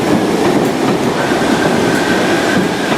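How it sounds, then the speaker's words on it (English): A train rolls past on a railway line near Hoylake and West Kirby, a steady loud rumble with clattering wheel beats and a faint high squeal, close by and without talk. "Train's just crossing it now."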